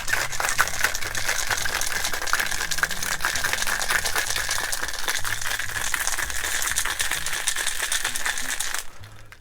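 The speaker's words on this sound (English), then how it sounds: "Shake it all up." A cocktail shaker is shaken hard and fast, its contents rattling in a dense, bright, continuous churn that stops abruptly at the very end.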